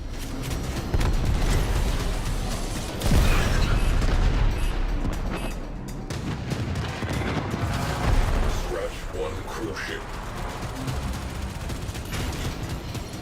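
A spaceship blows up in the video game Warframe: deep booming blasts and rumbling explosions, loudest around three and eight seconds, over a dense bed of game noise and mechanical clatter.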